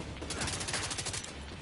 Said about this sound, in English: More people shooting at me.